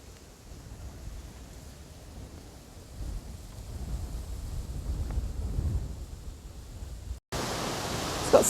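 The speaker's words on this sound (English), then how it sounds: "It's got super windy." Strong wind sweeps a riverside walking path, a faint-to-moderate rumbling roar that builds in gusts and ends with a sharper blast of wind noise on the microphone.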